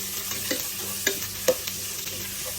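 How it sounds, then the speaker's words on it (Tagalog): Chopped onion and ginger sizzle in hot olive oil in a pan, with a steady fry hiss broken by a few sharp scrapes and clacks of a spoon stirring, close and alone. "maglalagay tayo ng sibuyas at luya kung saan ito ay ating igigisa"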